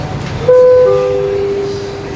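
Aboard a moving passenger train: a steady rolling rumble with a loud two-tone electronic chime sounding over it, close and clear, and no talk.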